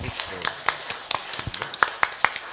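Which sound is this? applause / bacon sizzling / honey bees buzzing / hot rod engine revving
applause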